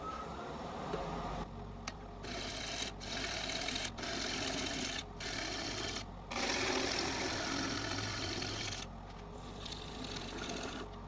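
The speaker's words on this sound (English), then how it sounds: "just use the 3/8 inch gouge for one final pass to the middle" A wood lathe spins a mystery-wood bowl while a 3/8 inch gouge makes a final pass toward the middle, giving a steady machine hum with a rasping cutting noise that starts and stops in repeated passes.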